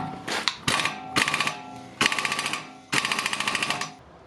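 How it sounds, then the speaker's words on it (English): An air impact gun works at a hub nut bolt on a Toyota MR2, several loud rapid rattling bursts of hammering blows, each about half a second to a second long with brief pauses between. "Try and use the old air impact gun to get that bolt out."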